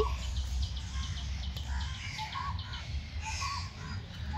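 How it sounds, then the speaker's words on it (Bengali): Crows caw in a park setting, with several harsh calls repeating through the span at moderate distance over steady outdoor background noise and other birds. "কাক প্যাক প্যাক করছে"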